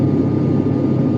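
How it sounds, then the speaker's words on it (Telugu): Inside an airliner cabin as it comes in to land at Rajiv Gandhi International Airport in Hyderabad, a steady, loud low engine roar continues without a break and no voices are heard. "రాజీవ్ గాంధీ ఇంటర్నేషనల్ ఎయిర్పోర్ట్లో ల్యాండ్ అవ్వబోతుందండి ఫ్లైటు."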